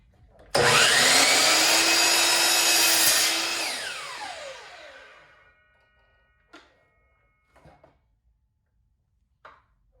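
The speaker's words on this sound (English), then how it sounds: "I'm just gonna trim them off real quick" A power saw trims red oak boards for a pencil box, one loud continuous cut of about three seconds whose whine winds down, followed by a few short, quieter knocks of wood being handled.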